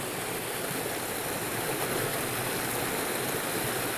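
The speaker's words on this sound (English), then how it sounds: "This is a really nice stream." A small fishing creek with pools and little waterfalls rushes steadily nearby, a broad, even hiss of flowing water with no breaks and no voices.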